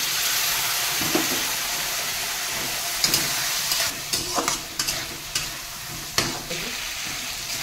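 Spices fry in oil in a pan for jackfruit kofta curry after a little hot water is added, giving a loud, steady sizzle. Repeated scraping stirs come through near the end.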